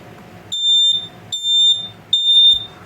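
A smoke detector under test sounds three loud, piercing electronic beeps, each about half a second long, in an evenly spaced pattern and close by, with quiet room noise in the gaps.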